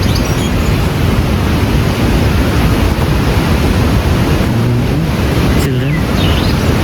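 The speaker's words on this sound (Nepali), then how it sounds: "यति राम्रो छ खोला झर्ना" A river and waterfall rush in a steady, loud roar close by, unbroken from start to end, with light wind buffeting the microphone and no clear talk.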